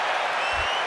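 A stadium crowd at an international football match between Japan and Chile roars in a brief, steady wash of cheering, heard from a distance.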